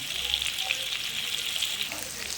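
Potatoes frying in a pan with salt give a steady, close sizzle that hisses evenly throughout, with no talk over it.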